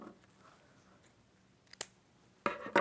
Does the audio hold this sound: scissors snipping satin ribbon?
yes